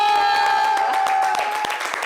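A TV studio audience on a French-language talk show claps loudly together, a dense burst of applause that continues under a held tone and a host's voice.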